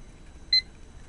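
A kitchen-style timer gives one short, clear electronic beep at moderate volume, heard alone against a quiet background hum.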